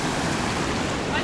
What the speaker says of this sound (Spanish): las olas llegan hasta acá, o sea, está muy fuerte el oleaje